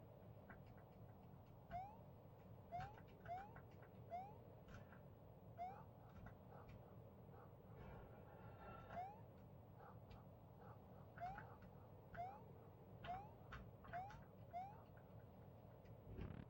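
Repeated short meows from a cat in a horror Super Mario World hack, more than a dozen soft, evenly spaced calls over a steady low game drone.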